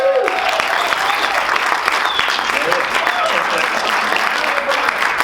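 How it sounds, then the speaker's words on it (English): Steady crowd applause fills the whole stretch, dense clapping at even loudness with a few voices mixed in. "Give David a round of applause here, guys."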